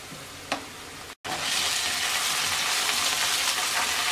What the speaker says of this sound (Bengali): পেঁয়াজটা হালকা ভাজা হয়ে গেছে, এবার আমরা এর মধ্যে 1 চা চামচ আদা রসুন বাটা দিয়ে দিচ্ছি।